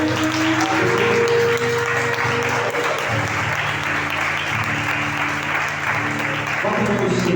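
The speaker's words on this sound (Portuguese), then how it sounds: "Aplauda ao Senhor." A church congregation applauds during a Sunday celebration service, sustained dense clapping from many people under a steady sustained keyboard or organ chord, with voices faintly present.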